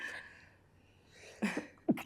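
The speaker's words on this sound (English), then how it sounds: "I think it's the first time I've sneezed on this podcast" A single sneeze from a person during a podcast recording, a soft build-up of breath followed by a sharp, close burst and a quick second puff.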